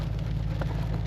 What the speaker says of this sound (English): it has started hailing on us now.